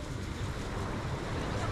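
Sea waves on the pebbly Yalta shore in Crimea, a steady broadband wash of surf mixed with wind rumble against the microphone, continuous and fairly close.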